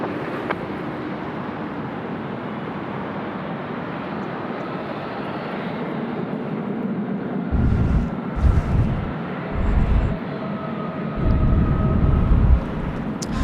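Airplane on runway 25 at Sydney Airport on a windy day, a steady broad engine roar held throughout, distant to moderate, with gusty wind buffeting the microphone in the later part.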